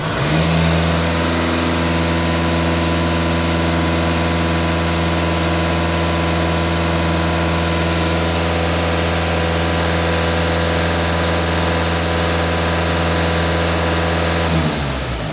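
A VW Passat B8 diesel with a NOx fault code runs steadily, close and loud, its engine hum sustained for the whole stretch with engine speed raised and held before dropping away at the end.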